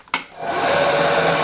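A machine cutting a 1/4 inch slot in metal: a sharp knock, then a steady loud whine and grinding roar that holds evenly with a high ringing tone and no voices.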